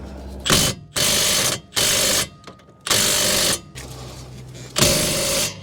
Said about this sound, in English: we need to take out these two 17mm caliper bracket bolts